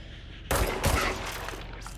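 A short burst of gunfire erupts in the video game Control after a brief quiet lead-in, a loud rapid volley of shots that trails off within about a second.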